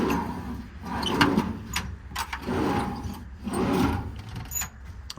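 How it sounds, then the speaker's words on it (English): Several smooth ball-bearing drawers on a service truck glide open and shut in a repeating rhythm, each slide a soft rolling rumble with faint metallic clicks, close by and without any talking. "All these drawers slide super nicely."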